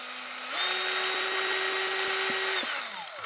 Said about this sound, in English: then spin up the drill